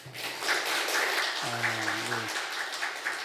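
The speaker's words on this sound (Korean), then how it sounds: "하나님께 영광의 박수 드리겠습니다." Congregation applauding in a church during a Sunday service, a steady broadband wash of many hands that runs throughout, with a brief spoken voice passing over it midway.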